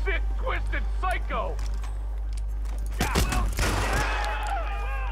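Gunfire in Hitman (2016) during a firefight with guards: a cluster of sharp, loud shots and clattering impacts bursts out in the middle, over a steady low game hum, with earlier chirpy game effects and no spoken voice.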